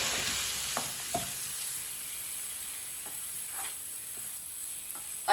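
Ingredients stirred in a hot pan, a quiet steady hiss broken by sparse scraping and tapping strokes of a spoon, no voices.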